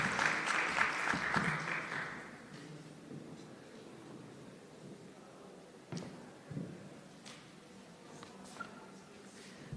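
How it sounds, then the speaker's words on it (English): Audience applause at a national health research conference after three presentations, a burst of clapping for the first couple of seconds that fades into quieter room noise with a few isolated knocks and claps. "Let's have another round of applause for 3 excellent presentations."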